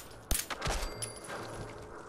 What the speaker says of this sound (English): Shooting people in the dark's always fun